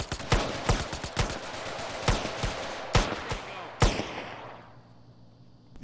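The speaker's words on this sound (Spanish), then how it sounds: "Disparos." Bursts of gunfire in a GTA roleplay game, a rapid cluster of sharp shots followed by several spaced single shots, loud and close, then a fading echoing tail into quiet.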